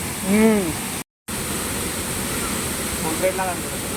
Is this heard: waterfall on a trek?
yes